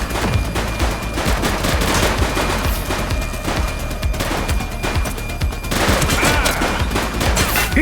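Rapid gunfire crackles nonstop in a police shootout in The Precinct video game, dense overlapping bursts and machine-gun volleys, loud and continuous throughout.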